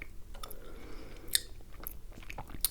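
Gum chewed close to the microphone makes soft, moist smacks and small clicks at an irregular pace, quiet and intimate, with no talking.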